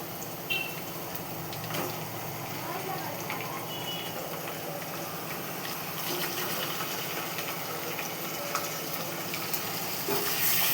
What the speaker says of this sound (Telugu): చికెన్ వేసుకొని కొంచెం కలపాలి.